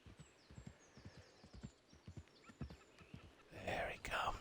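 Klaus, a horse in the Red Dead Online game, arrives at a trot with steady rhythmic clip-clop hoofbeats, finishing with a loud snorting whinny near the end.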